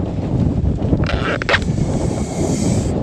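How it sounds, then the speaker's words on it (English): Strong wind gusting across the open Nevada desert, a loud, constant low roar buffeting the microphone throughout, with a brief higher whoosh in the middle and no voices. "This wind is horrendous."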